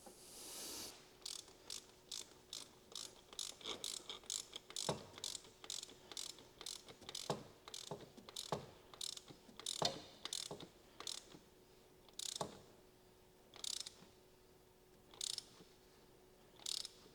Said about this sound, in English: tightening that one, it is an aluminum fitting inside of an aluminum block